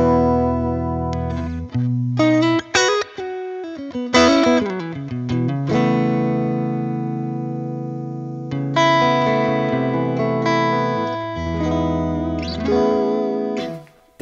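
Clean electric guitar played through the Milkman Creamer amp-sim plugin, with a Fender Princeton or Deluxe Reverb style tone and lush reverb, picking out chords and single notes that ring and decay alone.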